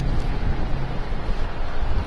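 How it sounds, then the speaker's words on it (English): Strong wind buffeting the microphone during a bike ride into a headwind on East Avenue, a constant low rumbling roar with no pauses, loud and close. "Oh, it's very windy."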